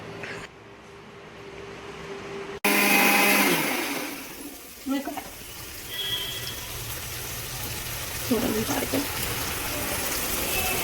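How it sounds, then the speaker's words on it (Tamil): Electric mixer grinder grinding coconut with water, a loud steady whirring roar that starts abruptly and runs on with churning liquid, with someone speaking briefly over it. "தண்ணி ஊற்றி மிக்சியில் போட்டு தண்ணி ஊற்றி"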